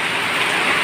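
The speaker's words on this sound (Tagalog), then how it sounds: "Kumapatak na naman ang ulan sa bubong ng bahay." Rain pattering on the roof of a house, a dense, even hiss of drops that fills the short moment without a break, close and moderately loud, with no voices over it.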